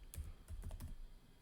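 Quick bursts of keystrokes on a computer keyboard while entering a localhost address into code, a few clustered clicks in short groups, close and soft, with no talking.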